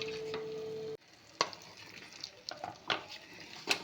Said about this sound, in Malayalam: നല്ലപോലെ ഒന്ന് ഇളക്കി അതിനകത്ത് നന്നായിട്ടൊന്ന് മസാലയൊക്കെ പിടിക്കുന്നവരെ ഇളക്കിക്കൊണ്ടിരിക്കണം.